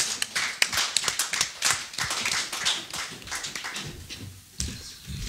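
A church congregation applauding, dense rapid handclaps with some louder sharp claps, steady and close, at a Christian worship service.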